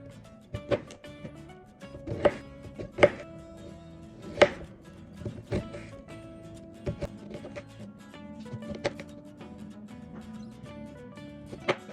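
A knife chops cucumber on a cutting board nearby, a series of crisp, uneven taps with short pauses.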